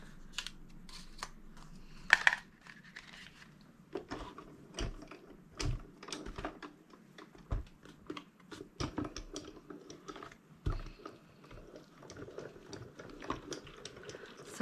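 Faint, sparse mechanical clicks and taps from a die-cutting machine cutting card with a Spellbinders large die, with irregular knocks as the table shakes, quiet and close with no voices.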